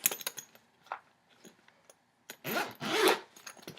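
A zipper on a sturdy cardboard case covered in cloth or cotton material, opened and closed in several close rasping pulls, short tugs at first and then two longer sweeping runs.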